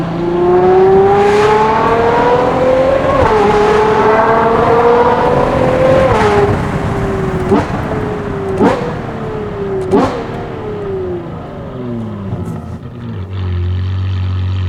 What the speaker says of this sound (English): I need to put my window down because this sound is unbelievable.